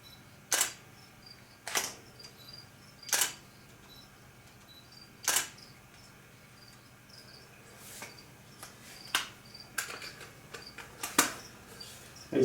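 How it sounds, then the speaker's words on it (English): Camera shutter clicks sound one at a time at irregular intervals over faint background hum, with a quick double click near the end. "So if you hear some shutter noise, please bear with me."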